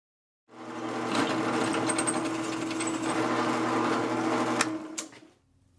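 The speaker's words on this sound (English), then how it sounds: "Drilling through the matching piece works too." A steady, loud mechanical whir of a drill boring through a metal piece, running continuously for several seconds, then winding down and stopping.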